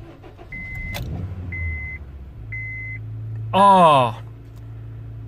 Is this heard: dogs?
no